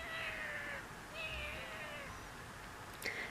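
A cat in the video game Dandelion meows a few times, drawn-out and fairly quiet, over soft background game ambience, followed by a brief click.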